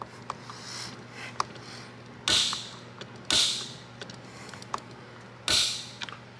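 A bolt on a Yakima Baseline roof rack tower is tightened, giving three loud, close creaking ratchet bursts among quieter mechanical clicks, with no talking.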